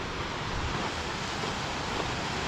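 Waterfall near Nederland, Colorado, a dense steady rushing roar of falling water heard close and continuous, mixed with some wind buffeting on the microphone.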